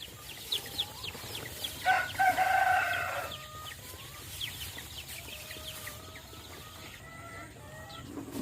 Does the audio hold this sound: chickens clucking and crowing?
yes